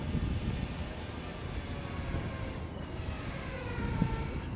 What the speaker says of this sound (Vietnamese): Rồi mình sẽ cho máy bay lên cao một chút nhá.